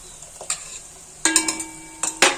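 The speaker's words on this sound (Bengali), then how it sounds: "আজকে কয়েকটা বেগুনি ভেজে নিচ্ছি একদম ডুবো তেলে ভাজছি না" Brinjal fritters (beguni) shallow-fry in a little oil rather than deep oil, giving a soft background sizzle broken by several loud, close bursts of crackling and stirring, with no talking.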